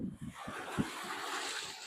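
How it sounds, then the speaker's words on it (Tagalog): Strong waves surge onto a wide beach beside an abandoned resort. The surf rushes up as a broad, roaring wash with wind buffeting the microphone, following a few thumping knocks close by. "lakas ng alon"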